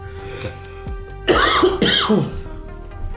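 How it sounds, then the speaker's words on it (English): A person coughs and clears their throat in a quick cluster of harsh, close bursts, while a faint background hum continues. "I'm coughing all of a sudden."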